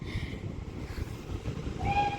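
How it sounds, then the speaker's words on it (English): A Great Western Railway Class 800 train pulls into Didcot Parkway station with a steady low rumble of wheels and running gear, and a brief high horn-like tone sounds near the end; no voices. "Now arriving in over here is another Great Western Railway Class 800."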